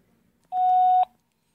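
A single steady electronic voicemail beep on a phone answering message, loud and clear, lasting about half a second before falling silent.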